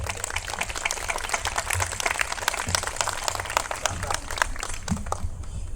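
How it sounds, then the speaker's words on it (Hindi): An audience at a Holika Dahan celebration bursts into loud, sustained applause, with dense rapid clapping that continues for several seconds before tapering off at the end. "एक बार जोरदार ताली हो जाएगी।"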